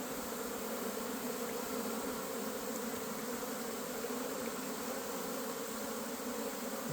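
Honeybees swarm around backyard hives in spring, a dense continuous buzz holding steady and close throughout with no voices.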